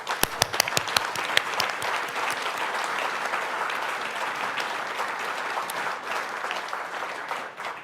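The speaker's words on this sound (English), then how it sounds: "let's have a big round of applause for Larry" Sustained applause fills a symposium hall for an honoured man named Larry, with a few sharp individual claps at the start before the steady, dense clapping carries on evenly to the end.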